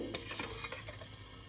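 Bubbling, sizzling water boiling in a steamer pot for steaming modak dumplings, with soft clinks of metal and a steady hiss underneath.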